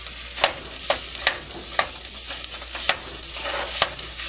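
Sausage frying slowly in a pan for sourdough biscuit gravy, a steady close sizzle broken by sharp clicks and scrapes of stirring, with no talking.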